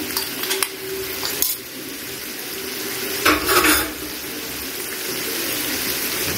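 Kidneys cooked with a mix of spices are stirred in a pan, giving a steady close frying sizzle with scattered utensil scrapes and a louder burst of stirring midway.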